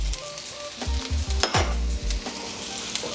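Onions and celery sizzle in a hot wok for chicken chow mein while a metal utensil scrapes and stirs, giving several close, rhythmic knocks and clatters over the steady frying hiss.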